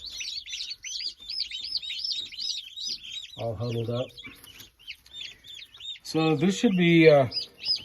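Newly introduced chicks chirping steadily in a full brooder alongside a turkey and meat chickens, a dense run of high peeping throughout, with a person speaking nearby in brief stretches.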